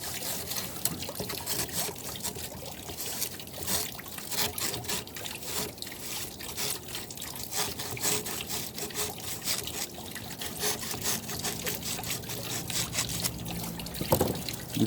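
Running water flows and trickles through a gold panning sluice, a steady splashing babble with irregular spatters, with a brief louder surge near the end.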